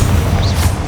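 Confringo blasting curse going off in the video game Hogwarts Legacy, one short, loud, deep explosive boom with a brief rushing burst.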